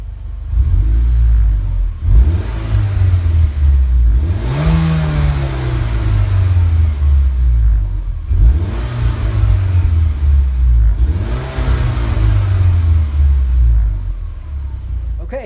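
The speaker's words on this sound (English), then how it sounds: "this is not what a performance car should sound like" A stock Mitsubishi Lancer Evolution X engine revs up repeatedly, with rising and falling rumbling sweeps of the engine note in close, loud bursts with short dips between them.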